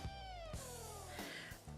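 A cat meows close by in a quiet room: a long drawn-out meow, then a second falling one, clear and without any talking.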